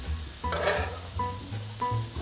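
Eggs and sausage sizzle steadily on a breakfast griddle, with a loud continuous frying hiss and a few clinking utensil scrapes repeating at intervals, close up and without any talk.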